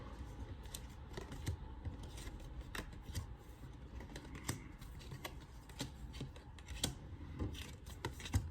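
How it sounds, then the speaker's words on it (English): Tarot cards flipped over and handled on a table, giving a quiet, irregular run of crisp flicks, slaps and soft rubbing close by, with no voices. "let's flip over these cards and see what's coming up"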